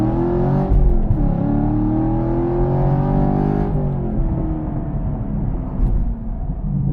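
A Camaro 1LE with an LT1 V8 accelerates hard from inside the cabin, the engine note climbing loudly through the revs with a short dip at a gear change, then pulling again and easing off.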